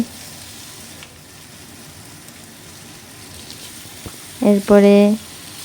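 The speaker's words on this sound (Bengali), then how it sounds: "কোরাল মাছের মাথাটা হলুদ মরিচ লবণ দিয়ে সুন্দর করে তেলে ভেজে নিচ্ছি লাল লাল করে" A coral fish head seasoned with turmeric, chili and salt fries in oil with a soft, steady sizzle throughout, and a voice speaks briefly near the end.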